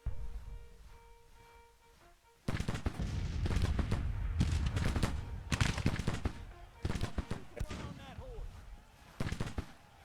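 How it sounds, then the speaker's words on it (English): Artillery fire in the strategy video game Grand Tactician, with dense bursts of booming and cracking shots that start after a quiet opening and keep coming in waves, loud and close, with talk over parts of it. "We are a little bit under artillery fire, but nothing too crazy so far."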